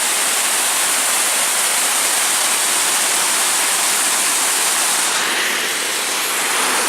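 A waterfall in Idaho pours in a loud, constant hiss and rush of falling water, close and unbroken from start to finish, with no talking.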